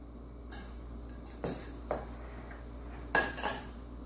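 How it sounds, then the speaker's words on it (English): A utensil stirs a methanol and sodium peroxide mixture in a glass mason jar, giving a few sparse, faint clinks and taps against the glass over a low steady hum. "stir it just a little bit more, and then mix it into your canola oil"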